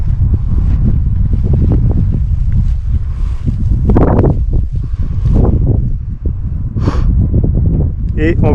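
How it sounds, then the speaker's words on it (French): Strong gusting wind buffets the microphone on a mountain ridge leading to the Roc de l'Aigle, a loud continuous roar with flutters and rustling throughout and no speech. "sur l'autre côté il va y avoir du vent, donc je vais arrêter de parler"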